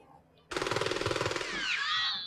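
A rapid burst of automatic gunfire from the 1984 film The Terminator, about twenty close, loud shots in quick succession, followed by a ringing, whining tail.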